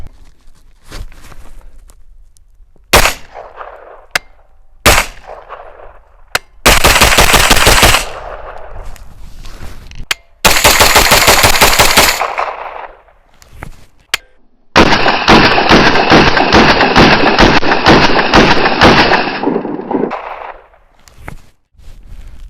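AR-9 pistol carbine with a mil-spec trigger firing outdoors, loud sharp shots that start singly and then come in fast strings of rapid fire, each burst echoing briefly before silence.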